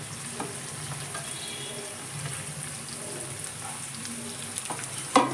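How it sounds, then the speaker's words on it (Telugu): Chopped onions fry in hot oil for a crab curry, giving a quiet, continuous crackling sizzle with faint scattered pops and a brief louder clatter at the very end. "ఆయిల్ వేడెక్కిపోయిందండి ఇప్పుడు ఇందులోకి ఒక మూడు ఉల్లిపాయలని చిన్న ముక్కల కింద కట్ చేసేసుకొని వేసుకోవాలి"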